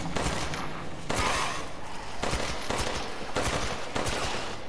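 Rapid bursts of gunfire in Resident Evil Village, loud and close, coming in repeated volleys with brief gaps between them.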